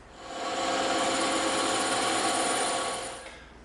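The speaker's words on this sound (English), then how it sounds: "Now we're going to go back over to the bandsaw and we're going to cut these ends off." Bandsaw cutting the ends off a piece of EVA foam, a steady close whirring hiss that swells in, holds for about two seconds and fades as the cut finishes.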